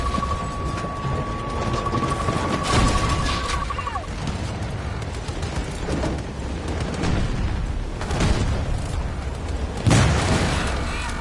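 Explosions from a recoilless M5 rifle in the shooter game Battlefield 2042 land as several heavy booms amid rumbling battle noise, with a short whistling tone early and a sharp loud blast near the end.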